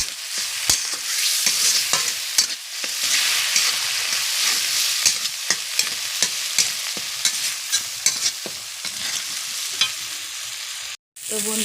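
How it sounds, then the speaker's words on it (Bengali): A spoon stirring turmeric and spices for potato curry in a hot pan, regular scraping knocks and clinks against the metal over a constant sizzle, close and fairly loud. "আমি একটু ভালো করে এটা চামচের সাহায্যে মিশিয়ে নেব।"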